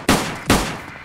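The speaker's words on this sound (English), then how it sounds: "We just got shot at again." Two loud, close gunshots in the DayZ video game, fired about half a second apart, each with a short ringing tail.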